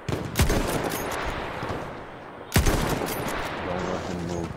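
Rifle gunfire in the video game Battlefield 1, two sharp loud shots about two seconds apart over a constant background din of distant battle noise, with no clear talk.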